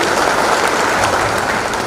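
Dense, steady applause from an audience at a Telugu party mini Mahanadu meeting, clapping to approve a constituency resolution, sustained evenly for two seconds.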